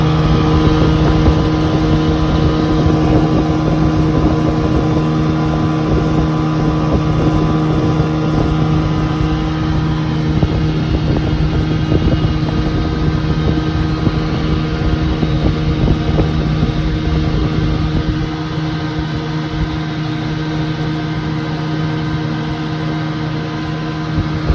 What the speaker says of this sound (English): I'll give you guys a video there of it running.